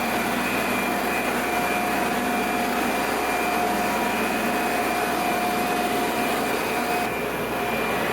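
Aeration blowers at a wastewater treatment plant roar loudly and steadily, a dense broadband drone with a constant tonal whine that holds without pause, close by and with no talking.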